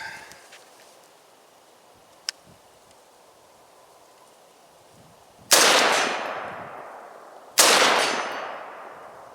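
Two loud AR rifle shots fired during zeroing and testing, each a sharp blast with a long echoing decay, a couple of seconds apart after a quiet stretch with a faint click.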